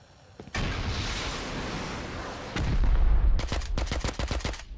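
Rapid AK rifle gunfire in the Rust survival game, a sustained roaring burst followed by a denser salvo and then a string of sharp separate shots, close and loud.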